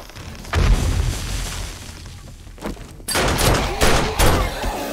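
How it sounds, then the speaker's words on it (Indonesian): Several deep booms and bursts of fireworks in 7 Days to Die, a couple of sharp blasts followed by crackling, popping explosions, loud and close. "Ini gue lempar kembang api dulu."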